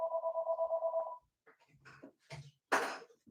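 A telephone rings with a rapid pulsing electronic trill for about a second, then stops, followed by brief muffled sounds in a quiet room.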